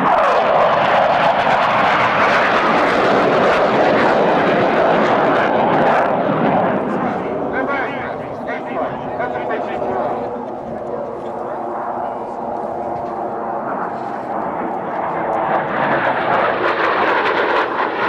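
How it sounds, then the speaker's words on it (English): Blue Angels jets roar past at an air show, a loud sustained engine rush that swells, dips midway and builds again, with an announcer talking over it. "They will roll their aircraft 270 degrees and cross with minimum separation."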